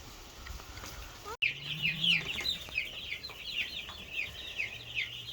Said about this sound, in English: Here we have our second batch of broilers.